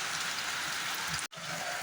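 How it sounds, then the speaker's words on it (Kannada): Heavy rain pours down steadily in a dense, even hiss on farmland in rural Karnataka, broken by one brief dropout. "ಜೋರು ಮಳೆ ಐತಿ ನೋಡಿ"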